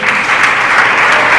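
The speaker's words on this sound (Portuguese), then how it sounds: "Em nome de Jesus, que as nossas palmas louvem o Senhor" Dense, steady clapping from a large church congregation fills the space, loud and continuous throughout.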